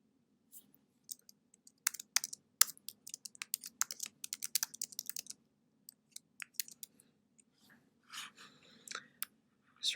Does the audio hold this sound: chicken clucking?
no